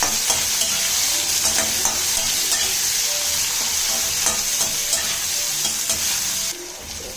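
Thinly sliced onions fry in ghee with mustard and cumin seeds for paneer keema rice. A loud, continuous sizzle is broken by brisk stirring scrapes, then drops noticeably quieter near the end.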